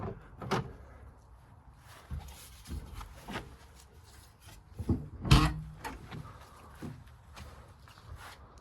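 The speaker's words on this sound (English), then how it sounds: "And we can open the rear doors and get a look back here." Rear doors of a 1979 Toyota Land Cruiser FJ40 being opened, with scattered metallic clunks, latch clicks and creaks, one loud thunk near the middle, and faint shuffling around them.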